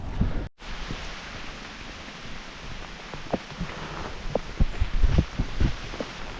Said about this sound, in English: no respite on the rain then. It's coming in heavy, mate.